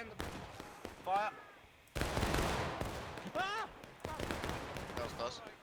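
A volley of musket fire from troops in a historical-rules multiplayer battle game: a loud burst of overlapping shots at about two seconds, with voices calling out over it and ragged gunfire continuing afterward.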